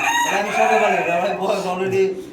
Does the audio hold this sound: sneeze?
no